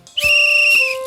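A railway guard's whistle at a station gives one short, piercing shrill blast lasting under a second, loud and close.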